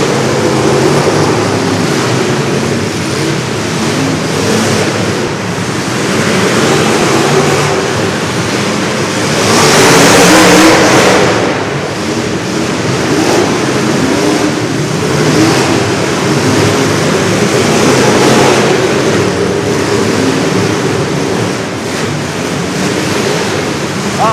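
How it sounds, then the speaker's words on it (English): Dirt track race cars circling a track heard from a distance, a dense, loud wash of engine roar and wind noise that swells and fades, with a brief surge near the middle. "really turned up the wick and went right underneath the nose of that number 11 Woodward"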